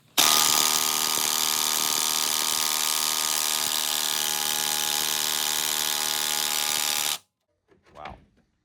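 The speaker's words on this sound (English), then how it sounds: "Got my charged up impact. This is like a 500 foot-pound impact, and I got the weighted 19 mil socket on there." A cordless 500 foot-pound impact wrench with a weighted 19 mm socket hammers on the crank bolt of a 2017 Acura RDX in one loud, continuous seven-second burst that stops abruptly, followed by a brief faint voice.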